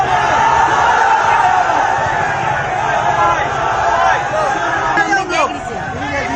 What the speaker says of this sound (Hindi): पुलिस स्टेशन के बाहर इस तरह से हंगामा होता रहा